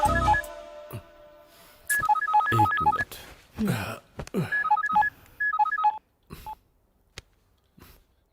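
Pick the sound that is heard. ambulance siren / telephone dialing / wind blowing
telephone dialing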